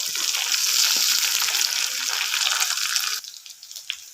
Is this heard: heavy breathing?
no